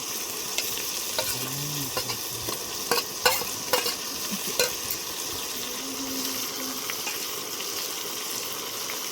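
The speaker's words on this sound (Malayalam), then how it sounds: "നന്നായിട്ടൊന്ന് ഇളക്കി കൊടുക്കുക." Ginger-garlic masala fries in oil for a Palakkad-style biryani, giving a steady bright sizzle with intermittent scraping stirs and light clicks of a spoon against the pan, close up and without speech.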